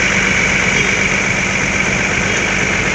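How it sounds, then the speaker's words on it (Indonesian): An ALS bus engine idles steadily during a mechanical check at a stop in Palembang, a loud, even, continuous rumble with a constant hum and no break in the sound. "Nah ini Bang Lubis lagi cek mesin ya, sama adiknya Bang Margono nih."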